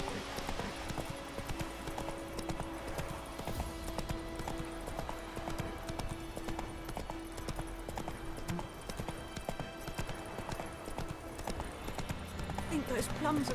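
Hooves clop rhythmically as a horse gallops in The Witcher 3, a steady near beat running the whole time beneath a voice and game ambience.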